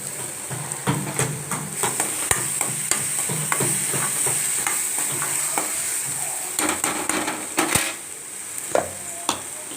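Ginger garlic paste sizzles steadily in a hot pan for a Tamil green gram thokku, with scattered sharp spatula scrapes and clicks of stirring over a continuous hiss, close and fairly loud, no talking.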